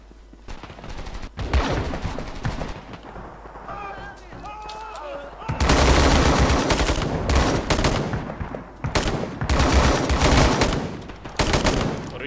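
Gunfire in Rising Storm 2: Vietnam during a street battle in Hue City, with single shots and then heavy, sustained automatic fire close by, and voices calling out over the battle.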